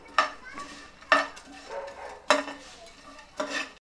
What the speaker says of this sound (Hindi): अब इन सबको एक साथ भून लेते हैं। मध्यम आंच में हम इनको भूनेंगे।